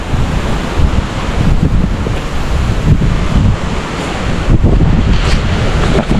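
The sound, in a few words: strong wind during Super Typhoon Uwan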